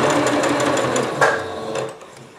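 A sewing machine runs in a steady, close whir as it stitches fabric for a stick horse, with a brief pause and a soft mechanical knock partway through before the motor slows near the end.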